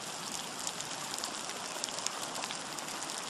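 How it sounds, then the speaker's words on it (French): Steady rain falls outdoors, making a dense, even hiss with scattered light drop taps throughout, with no voices. "En plus il pleut, ça tombe bien."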